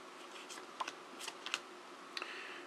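A tarot deck is shuffled by hand. It makes faint, scattered papery clicks and riffles, with a few sharper snaps standing out against a quiet background, and no one speaks.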